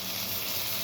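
Tomato puree goes into a frying spice mixture in oil, giving a dense, continuous sizzle and hiss, close and loud, with no voices.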